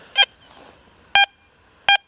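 Deus 2 metal detector in the Bird Dog program giving three short, bright, harmonic target beeps, each about a tenth of a second and spaced apart, loud and close over faint background hiss.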